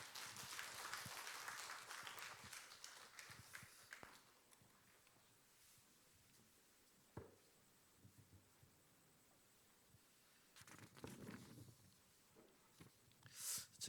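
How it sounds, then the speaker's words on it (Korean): A church congregation at a Korean men's mission dedication service applauds to welcome the pastor, a scattered burst of clapping that starts loud and thins into a few isolated claps, then swells briefly again near the end; the room is fairly quiet overall. "다 같이 큰 박수로 환영하시겠습니다."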